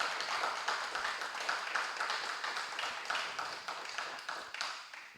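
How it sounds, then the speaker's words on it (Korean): A church congregation at a Thursday worship gathering claps together in sustained, fairly steady applause, a dense crackle of many hands that fills the room without pause and fades slightly toward the end. "우리 진숙이를 위해서 한 번 더 박수를 보내주세요."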